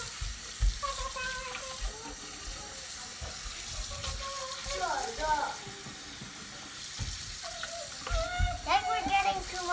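Tap water runs into a sink while rice is washed and scrubbed by hand, a soft steady splashing with bursts of swishing, under a child's and an adult's voices.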